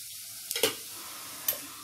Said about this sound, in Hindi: उसी तेल में मैं जीरा डालूँगी।